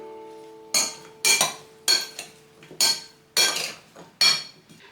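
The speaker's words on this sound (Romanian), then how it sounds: "Amestecăm." Utensils stirring a tomato and cucumber salad with olive oil and salt in a bowl, six crisp clattering strokes in a steady rhythm, close and loud, with no talk.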